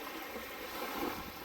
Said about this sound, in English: our dinghy's a little bit small. It's an inflatable floor, so you do get splashed a little bit.